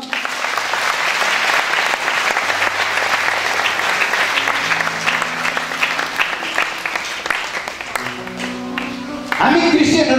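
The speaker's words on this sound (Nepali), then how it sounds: "ताली बजाउनुहोस् त।" An audience at an outdoor Christian preaching event in Nawalpur, Nepal claps steadily, dense continuous applause filling the whole stretch, with a voice speaking over it near the end.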